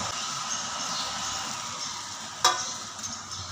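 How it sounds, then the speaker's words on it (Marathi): Cheese and herb bread toast sizzles in melted butter on a tawa griddle over low heat: a soft, even hiss close by, broken by one brief sharp clatter near the end. "आता हे बनवलेले एक टोस्ट आपण तव्यावर टाकून घेऊ"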